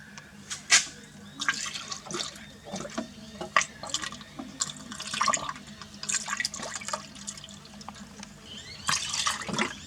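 Coolant is poured into a Toyota Hilux engine during a front main seal fix, a faint trickling and gurgling of liquid with scattered drips and splashes close by, under light background noise.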